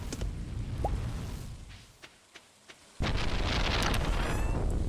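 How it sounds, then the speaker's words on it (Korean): A thunderstorm in the farming game Stardew Valley: a dense roar of rain and rumbling that drops briefly with a few soft knocks, then surges back loud and sustained, with no talk. "아니 천둥번개 장난 없는데요?"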